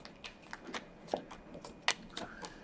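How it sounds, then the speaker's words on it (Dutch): Tarot cards being shuffled for a weekly horoscope reading, heard as a quiet run of soft papery riffles and flicks with a couple of sharper snaps, close and alone. "Ik zal de kaarten schudden om te kijken wat deze week voor jou gaat brengen."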